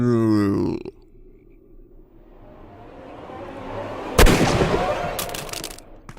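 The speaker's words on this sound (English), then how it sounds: "Marksman shot." A single sharp gunshot cracks out in the Sherlock Holmes: Crimes and Punishments video game, loud and abrupt, followed by a short ringing decay and a few clipped reports, after a brief voice and a low rising drone.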